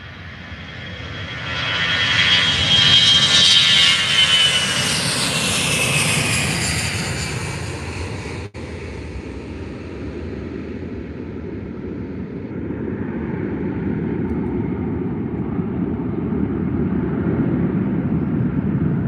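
A Eurowings airliner departing Faro Airport for Hanover roars loudly as it climbs away, a broad jet rumble with a sweeping whine that peaks early and then slowly fades into a distant, lower drone.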